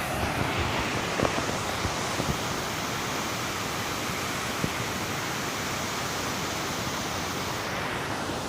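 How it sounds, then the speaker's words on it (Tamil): Continuous loud rush of water pouring and churning at a dam, a dense steady roar with no pauses and no voices. "அந்த தண்ணி சத்தம் பாருங்கள் எப்படி அடிக்குது அங்கே பாருங்கள்."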